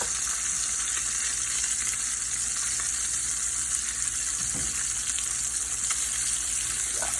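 Largemouth bass fillets coated with parmesan fry in a hot pan, making a dense, continuous sizzle close by with occasional brief spits.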